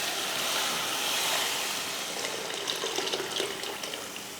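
Tamarind water poured into a cooking pan, a steady close rush of liquid splashing and gurgling for several seconds, loudest early and thinning toward the end.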